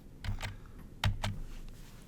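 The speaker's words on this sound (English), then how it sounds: "I can really just test my triggers right now by pressing B on the keyboard." A few sharp, close clicks of keys being pressed on a computer keyboard, in two quick pairs, with no talking.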